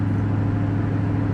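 A supercharged 4.6-litre 2002 Ford Saleen with Magnaflow exhaust cruising at highway speed: a loud, steady low drone with an even hum and no change in pitch, heard alone.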